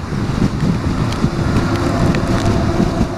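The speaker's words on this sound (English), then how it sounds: "Oh, all this turbulence, you see me moving my head around? That's the wind." Strong wind buffets the microphone on a bridge during a storm, a loud continuous rumbling roar with irregular gusty surges throughout and no voice.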